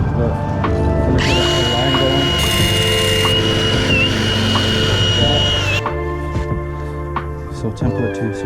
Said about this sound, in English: I'm going to drill holes right there